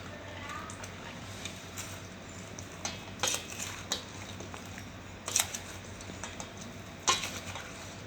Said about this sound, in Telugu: మొత్తం మిక్స్ అయ్యేంత వరకు మెల్లిగా కలుపుతూ ఉండండి